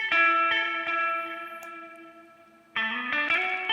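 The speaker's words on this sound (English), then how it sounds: "So here's delay into reverb." Electric guitar played through a delay pedal feeding a reverb pedal: a few sustained chords and notes ring out with echoing repeats and a wash of reverb, a fresh strum near the end, loud and close with no talk.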